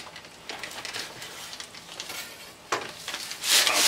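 PEI mussels simmering in a pan give a steady bubbling sizzle with light crackling bursts, growing louder and brighter toward the end, with no voices.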